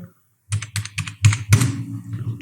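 A password being typed on a computer keyboard while working in Microsoft Excel, producing a close run of quick plastic key clicks with a couple of heavier strokes, after a brief silence.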